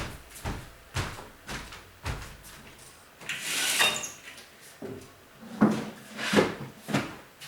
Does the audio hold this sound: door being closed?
yes